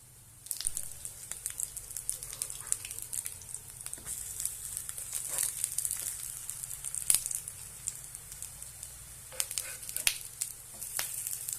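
Moong dal and bottle gourd patties pan-frying until crisp, giving a soft steady sizzle with scattered spitting crackles close by throughout.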